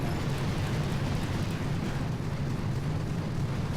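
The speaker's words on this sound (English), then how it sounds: "The explosion is not that big though, is it?" A dense, steady low rumble rolls on without a break from an explosion in the video game Mega Crab. It stays loud and even throughout, with no voices.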